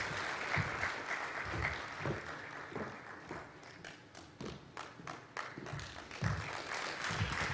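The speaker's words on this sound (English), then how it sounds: "that was a standing ovation for you and your passion for the sector" Standing ovation from the audience at a national industrial policy launch event, scattered claps and thuds swelling and thinning in uneven bursts, faint and somewhat distant, without talk.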